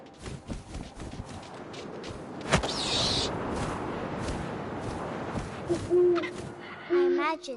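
An owl hoots in the video game What Remains of Edith Finch, a single call heard over a steady bed of wind and rustling ambience, with some shorter game sounds around it.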